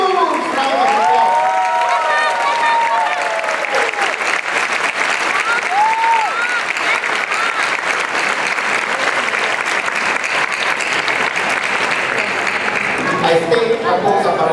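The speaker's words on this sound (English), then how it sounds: "So let us all give them a huge round of applause." Sustained audience applause fills a fundraising dinner hall, loud and steady throughout, with a voice speaking over the clapping near the start and again briefly at the end.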